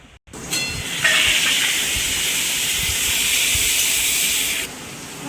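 Potatoes frying in hot oil in a home kitchen make a steady, loud hissing sizzle. It starts abruptly after a short pause, holds for about four seconds, then drops away.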